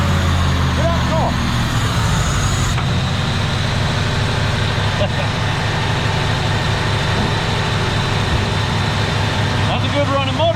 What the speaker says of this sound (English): That's a good running motor, y'all.